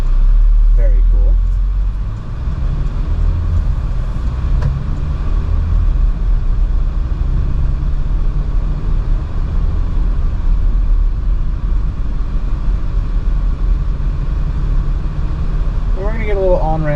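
A 2022 Porsche Macan base model pulls hard up an on-ramp in sport mode with traction control off, its engine a loud, sustained low rumble from inside the cabin, with faint tire and road noise and brief chimes at the start and end.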